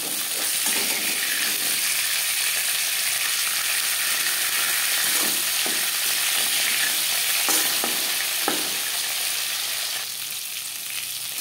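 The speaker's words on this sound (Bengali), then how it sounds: "একটা সাইড ভাজা হয়ে গেলে অপর সাইডটা উল্টে দেবো।" Food frying in a pan, a steady loud sizzle filling the whole stretch, with a few soft clinks and scrapes as pieces are turned over, close by and with no talking.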